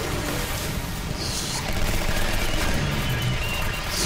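Dense, continuous video-game gunfire fills the scene, a loud unbroken barrage of shots fired wildly with no pauses, swelling slightly louder midway through.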